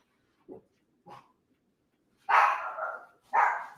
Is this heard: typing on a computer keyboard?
no